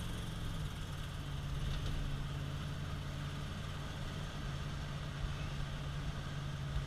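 A Ford 460 V8 with a 4-barrel carburetor idles steadily with a deep, even rumble, close and continuous with no revving.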